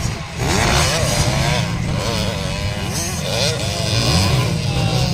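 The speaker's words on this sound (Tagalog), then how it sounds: "Ang laki palang motor ni Chris Atis, 450, tapos kay Zaira 150cc lang." A 450cc motorcycle engine roars loudly during a motorcycle race, revving up and down through gear changes with a steady, close, continuous drone throughout.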